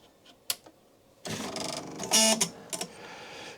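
A Husqvarna Viking Designer 1 computerized sewing machine powering up, giving a sudden burst of whirring and clicking mechanical motor noise with short beeps and clatters, close by after a few faint knocks.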